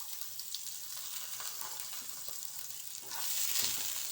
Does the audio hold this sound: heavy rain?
no